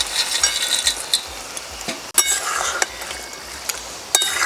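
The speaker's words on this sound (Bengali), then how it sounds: "এবার ভেজে রাখা মাছ দিয়ে দেব।" Fried mauralla fish goes into a pan of bottle gourd greens, bringing a steady soft sizzle with stirring scrapes and a few sharp clinks of utensil on metal, no voices.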